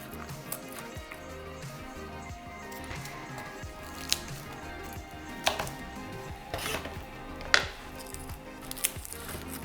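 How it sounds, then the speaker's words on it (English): Garlic cloves are crushed, trimmed and peeled on a cutting board, giving scattered soft knocks and a few sharper taps and cracks over a steady low kitchen hum. "I have 2 cloves, and we're just gonna want to squish them, cut off the end"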